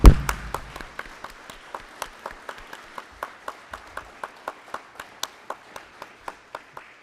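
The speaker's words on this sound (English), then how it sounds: "I would love to do a round of applause for these candidates." An audience at a Nevada Assembly District 39 candidates' debate gives a modest round of applause, opening with a loud burst and then thinning to a steady pattern of individual, evenly spaced claps.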